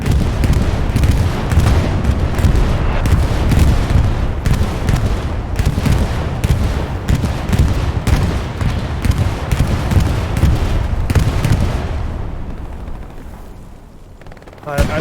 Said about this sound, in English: We're seeing a bombing run coming in.